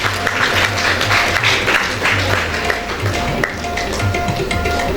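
An audience at a school award ceremony claps steadily for a student, a dense continuous patter of many hands with no voices over it.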